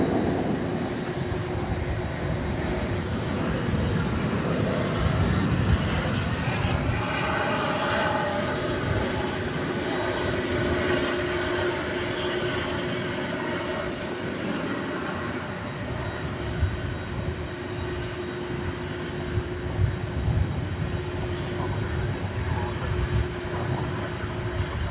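MD-11 trijet departing at night from DFW Airport, a sustained loud engine roar with a droning tone, rumbling steadily over a long stretch and easing slightly toward the end.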